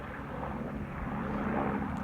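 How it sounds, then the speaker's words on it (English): A helicopter flies below a mountain ridge on the Colorado Trail near Grays and Longs Peak, giving a steady, moderately distant engine and rotor drone that holds even throughout with no talking. "Helicopter flying below me."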